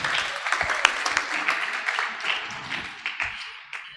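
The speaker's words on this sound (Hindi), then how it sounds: "तालियों के माध्यम से स्वागत करेंगे।" Applause from an audience at a religious study class on a Jain scripture lesson, a scattered patter of hands that gradually fades over a few seconds, with no talk over it.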